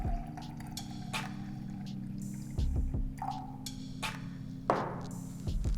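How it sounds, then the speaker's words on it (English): Hot water pours into brewed coffee at home to dilute it, a soft, close liquid trickle with small drips and clinks, alone and fairly quiet. "So we're going to dilute that with another 120 mils of water."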